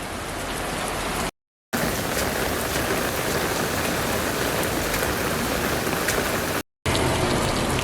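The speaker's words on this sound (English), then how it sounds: "The rain has died down ever so slightly" Steady, heavy rain pours down in Taiwan in a continuous broadband hiss, close and loud, broken by two brief moments of silence.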